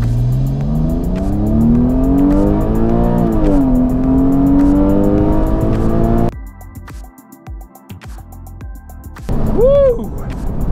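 A Porsche 911 in normal mode, sport mode off, accelerates hard on an open road in a 0-60 run, its engine revving loud and rising through a gear change before cutting off abruptly, followed by quieter road sounds and a voice.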